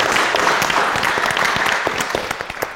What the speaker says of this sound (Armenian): Եկեք ծափարենք մեր բոլորներին